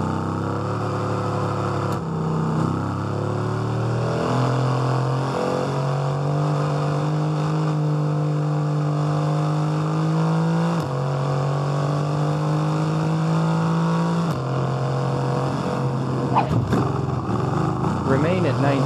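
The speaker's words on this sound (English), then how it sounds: "the engine's roar brings you an immersive game experience" A Formula 1 car engine in the F1 22 racing game, a steady loud high-pitched roar that climbs through the revs and drops at each gear shift, with a voice talking over it.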